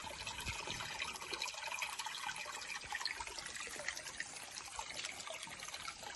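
Drinking water trickles steadily into a fish pond, a continuous close splashing and dribbling wash with no voices over it.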